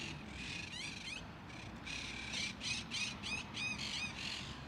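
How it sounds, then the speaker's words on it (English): Monk parakeets call from overhead in New York City, giving a string of harsh, rising squawks, some clustered and some spaced, clear above a steady low outdoor rumble. "Little monk parrots up there."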